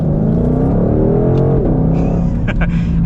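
A 2022 Shelby GT500 muscle car accelerates hard, its engine note loud and close as it climbs steadily in pitch, dips briefly as a gear changes, then pulls again under continuous rumble.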